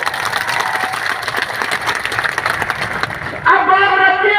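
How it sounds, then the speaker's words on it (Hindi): An outdoor crowd at a brotherhood mahapanchayat held after communal riots in Nuh claps steadily in a dense, unbroken patter for about three seconds, and then a voice comes in loud and close over the fading applause. "एक बार जोरदार ताली बजानी तो इनके लिए बताओ।"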